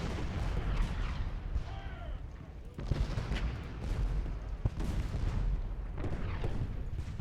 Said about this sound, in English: Artillery is opening up all along the line.